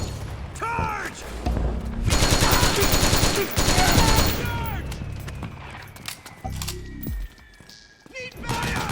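Heavy automatic gunfire in Metal Gear Solid 4, dense rattling bursts peaking mid-clip and then thinning out, with shouted voices in the battle mix.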